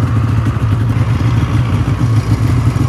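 A Subaru car engine warming up runs with a rough, pulsing mid-pitched rumble at close range, loud and steady with slight clattering fluctuations.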